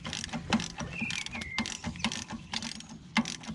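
Rear shock absorber bottom nut being undone on a BMW E87 with the car's weight on it, giving a busy run of ratcheting, clicking mechanical taps at close range, fairly quiet and steady throughout.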